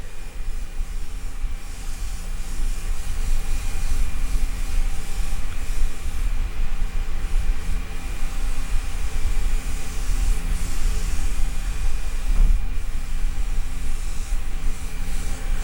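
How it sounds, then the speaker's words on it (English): An airbrush spraying paint during a custom paint job, a steady continuous hiss of air and spray held close and unbroken throughout, with no talk. "I'm keeping the airbrush well back, working quite fast and just getting a nice overall dusted look."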